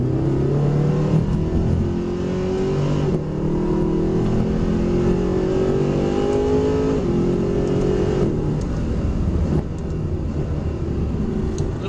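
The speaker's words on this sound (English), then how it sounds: "blips on downshift that you can hear there, they're programmed into the gearbox software" A Mercedes SLS AMG lapping a track, its engine loud and close, revving hard with sharp throttle blips as it downshifts into corners, the pitch repeatedly climbing and dropping.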